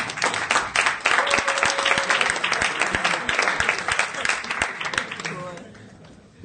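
A meetup audience in a room applauds for several seconds, with dense, steady clapping that tapers off near the end, and some voices mixed in.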